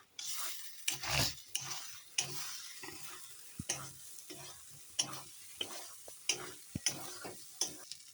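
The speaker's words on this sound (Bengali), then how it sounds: "এখন ভেজে রাখা আলুগুলো দিয়ে দিচ্ছি দিয়ে দেওয়া হলো দিয়ে এখন ভালো করে নেড়ে নিবে" A spatula stirs fried potatoes with spices in a frying pan for a paneer dish, making repeated close scrapes and taps over a faint sizzle.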